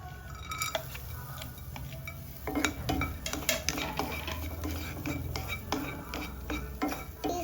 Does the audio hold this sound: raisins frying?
yes